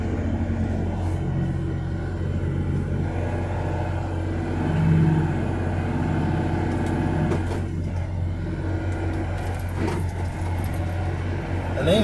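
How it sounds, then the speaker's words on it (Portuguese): A nine-axle truck overtaking at a tunnel entrance on the Anchieta highway down the Serra de Cubatão, heard as a steady heavy road rumble and engine drone from inside a vehicle, with some faint rattling. "Olha o cara com o nove eixo ultrapassando na entrada do túnel, ó."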